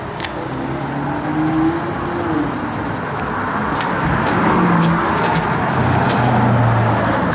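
A fast car drives by on a road, a steady loud engine and tire roar with a rising and falling passing sweep, no voices.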